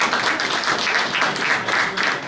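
Audience clapping at an event, a dense steady patter of many hands at moderate loudness lasting a couple of seconds with no talk over it.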